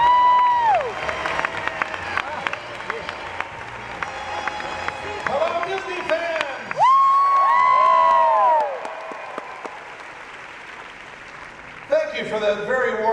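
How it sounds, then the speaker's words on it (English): Warm applause and cheering from an expo crowd welcoming the host of a Disney songbook evening, heard under a loud voice and music with sliding tones, the crowd noise rising and falling throughout. "For that very warm applause"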